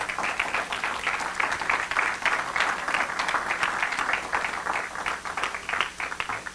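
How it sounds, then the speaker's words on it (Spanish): A congregation at a Spanish-language church service gives steady, moderately distant applause that keeps an even texture throughout with no talking. "Dale un aplauso de verdad al Señor"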